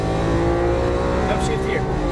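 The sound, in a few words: Lamborghini Aventador accelerating at full throttle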